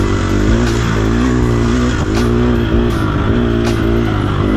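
An off-road race vehicle's engine drones loud and close at low revs, a thick steady rumble with slight pitch wavers and bumps as the vehicle pushes along the course.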